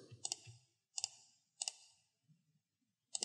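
A computer mouse clicked crisply and close while working in a data pipeline tool, four distinct double-click pairs spaced about a second apart in a quiet room.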